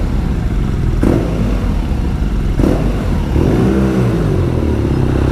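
Close and loud, a 2020 BMW R nineT Scrambler motorcycle engine rumbles steadily with blips of the throttle, a couple of sharp rev bursts and a gruff rising and falling roar, with no voices.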